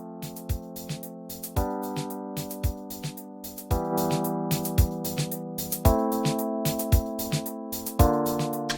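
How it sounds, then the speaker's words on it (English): A Rhodes electric piano plays a slow jazz fusion chord progression, with each sustained chord changing every couple of seconds over a basic, steady drum loop of kick and snare hits. "And we also have a very basic drum loop underneath, and so the whole thing sounds like this."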